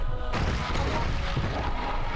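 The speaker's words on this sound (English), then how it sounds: "Here's the rocket launcher I've always wanted." Rocket launcher fired in the video game Outbreak 2, heard as a sudden heavy blast that rolls into a dense, booming wash of noise and lingers loudly to the end.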